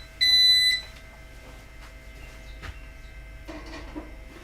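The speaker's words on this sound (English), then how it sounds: "It beeps saying that it finished." An electronics device gives a single short, clear electronic beep to signal it has finished, followed by quiet room noise with faint clicks.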